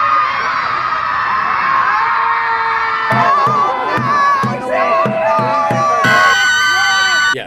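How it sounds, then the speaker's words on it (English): A large crowd of protesters against Trump screams and yells skyward in the street, a dense, loud, continuous roar of shrieking voices with higher wails rising through it. "American leftists took to the streets to protest Trump by literally screaming at the sky"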